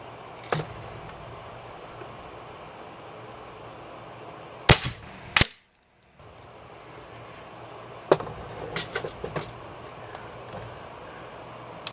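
A Crosman Legacy 1000 air rifle fires at chicken silhouette targets 20 yards off, giving a few sharp, close cracks with brief silence between, then faint handling clicks.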